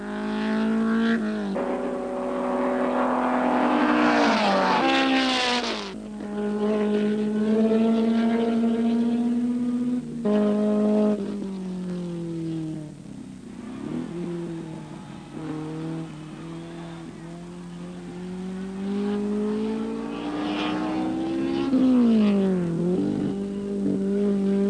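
Race cars, among them an Alfa Romeo GTA, roar past at the 1965 Sandown six hour race, engines revving and shifting through gears in long rising and falling sweeps, loud and fairly close, with no one speaking.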